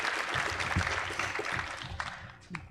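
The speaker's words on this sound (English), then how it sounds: "Let's have a round of applause for him." Audience applause at a Forty under 40 recognition event, a dense, steady patter of many hands clapping for a few seconds before tapering slightly at the end.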